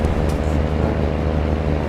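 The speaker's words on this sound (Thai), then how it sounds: "โอ้เสียงเบามากเลยรถคันนี้" A steady, low engine drone runs throughout, even and continuous like a heavy Hino Victor truck idling or cruising, hauling paddy rice in Farming Simulator 19, fairly quiet with no voices.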